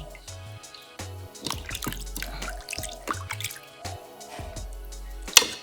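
Water drips and splashes as a cup is rinsed at a sink, with a run of quick close droplets and trickles over a low background hum.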